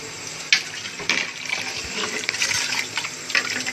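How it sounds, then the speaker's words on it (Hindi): Water is poured into a cooking pot of black chickpea curry, a close, continuous splashing gush with a few sharper splashes, and no talking over it. "अब हम इसमें डालेंगे पानी।"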